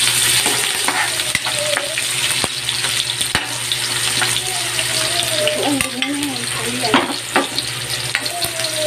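Onions frying in a pan for pork binagoongan, a steady close sizzle with intermittent stirring scrapes and clinks, a voice murmuring briefly in the background.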